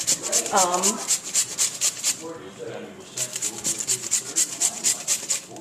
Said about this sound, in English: so you would go ahead and grate, your potatoes